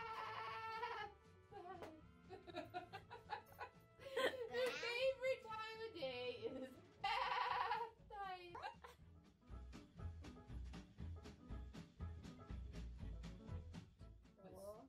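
A voice imitates a sheep's bleat with wavering, quavering cries, alongside other speech and playful vocal sounds.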